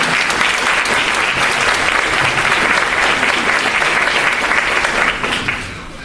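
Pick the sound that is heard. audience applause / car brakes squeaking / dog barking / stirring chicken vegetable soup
audience applause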